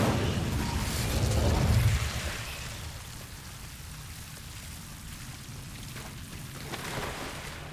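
Incendio fire spell cast in the Hogwarts Legacy video game, a loud whooshing, crackling burst of flame up front that fades over about two seconds into a quieter sustained rushing hiss with faint flickers.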